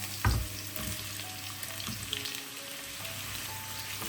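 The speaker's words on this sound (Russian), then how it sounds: "Нарезали лучок, а теперь быстренько его обжарим." Steady sizzling of chopped onion frying in vegetable oil in a pan, a soft crackle close by with a brief clatter of stirring at the start.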